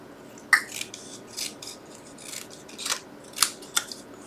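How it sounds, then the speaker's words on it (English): Scissors snipping card stock for a stitched stocking Christmas card, a series of crisp, close snips spaced irregularly over a few seconds, alone with no talk. "So I'm going to cut that back just a little bit."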